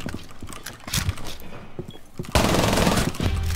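Gunfire in Rainbow Six Siege: scattered footsteps and small clatters give way to a sharp, loud burst of shots that continues as dense, close firing to the end.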